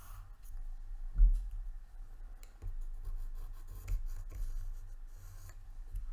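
A pencil traces around a glass block laid on a sheet of plain paper, giving faint, steady scratchy strokes with one slightly louder knock near the start and no talking.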